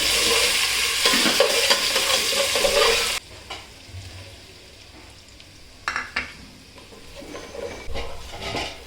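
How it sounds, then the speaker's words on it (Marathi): Garlic, curry leaves, ginger, green chilli and crushed cumin fry in hot ghee, giving a loud, dense sizzle for about three seconds. A quieter crackle follows with a few sharp clinks of a spoon stirring in the pan. "तूप घालून घ्यायचं कढीपत्ता घालून घ्यायचा अद्रक लसूण हिरवी मिरची जिरं कुटून घेतलेलं आहे अख्खा लसूण फोडणीला टाकून घ्यायचा"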